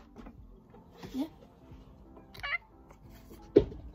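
A house cat gives a couple of short meows and chirps at moderate distance, followed by a sharp close knock, with a voice faintly in the room.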